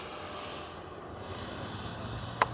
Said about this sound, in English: let's take off one more time. Quick up and down.